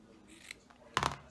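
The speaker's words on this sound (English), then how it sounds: "and I'm going to cut it off" Scissors snip through the end of a wrapped piece of craft material for a handmade journal, a short crisp burst of cutting near and close up, after a quieter stretch of faint handling noise.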